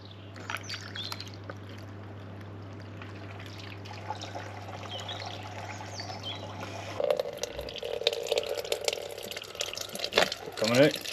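Water flushed through the roof drain of a Range Rover L405 pours out steadily, growing louder and splashier in the second half, with people talking nearby.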